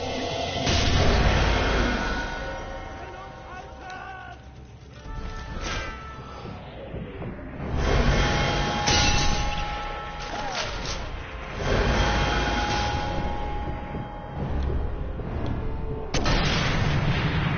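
Sniper rifle shots ring out in the video game Sniper Elite III, several heavy booming reports spaced through a dense, rumbling battlefield soundscape with whooshes and low explosions.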